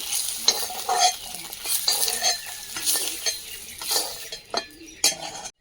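Eggs frying in oil sizzle in a pan while a utensil stirs and scrapes, with occasional clinks of metal on cookware, close and steady.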